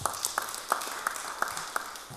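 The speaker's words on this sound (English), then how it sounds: "A round of applause." Light audience clapping at a religious talk: a steady run of quiet, evenly spaced claps, about three per second, sounding somewhat distant in a reverberant room.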